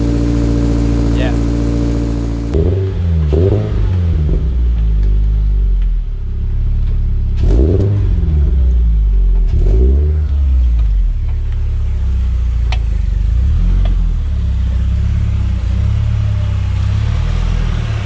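A Toyota GR86 with a Yonaka catback muffler idles with a deep, low rumble, then revs up in several swelling bursts, throaty and moderately loud.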